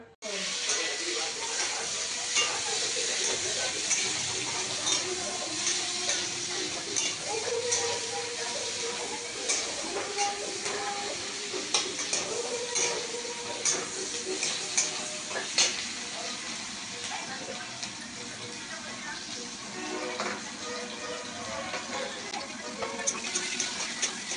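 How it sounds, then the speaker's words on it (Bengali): Food frying in a pan at home, a steady bright sizzle with occasional stirring scrapes and clatter, close and fairly loud, running continuously with faint background voice at times. "চলো ভাজাটা করে নিই"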